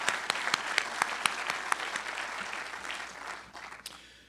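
Audience applause at a 2024 talent pipeline signing day event, a burst of many hands clapping that starts full and steadily thins out and fades over a few seconds.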